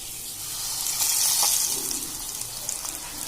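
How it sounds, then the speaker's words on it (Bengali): Stuffed ash gourd leaves dipped in gram-flour batter sizzle in hot oil, making a steady, bright, crackling hiss that continues without a break. "সেটা বেসনে চুবিয়ে খুব ভালোভাবে তারপর ভেজে নেব।"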